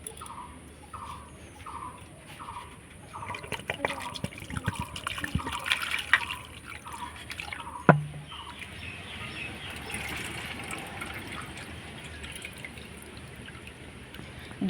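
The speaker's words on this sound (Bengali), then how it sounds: "দু তিনবার খুব ভালো করে চিড়েটাকে ধুয়ে নিয়েছি জল পাল্টিয়ে।" Flattened rice (chira) being rinsed in a bowl of water, with soft repeated sloshes and drips early on, a sharp clink near the middle, then a quieter running watery hiss, close and moderate in level.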